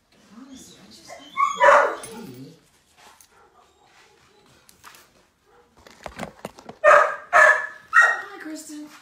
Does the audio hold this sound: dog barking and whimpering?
yes